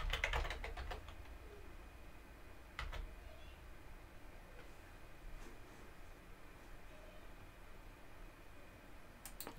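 A password is typed on a computer keyboard, with a quick flurry of close key clicks at the start, another short cluster, then sparse faint taps over a quiet room hum.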